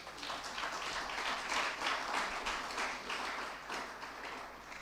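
Audience applause at a university students' forum, a steady wash of many hands clapping from a large crowd, sustained and fairly even at moderate loudness throughout with no talk over it.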